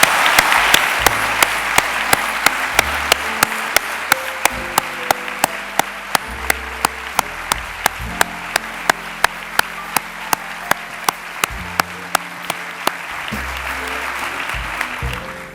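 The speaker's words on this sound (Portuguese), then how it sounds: "quero uma grande salva de palmas para todos eles" A large audience at a medical graduates' oath ceremony breaks into sustained, even applause for the families, a dense wash of clapping that holds steady from start to finish and tapers slightly at the end.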